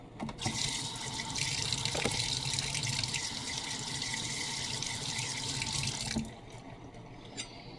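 Water runs steadily from a kitchen tap while a hand is washed, a continuous close splashing flow that stops abruptly near the end, with faint drips and clatter afterward.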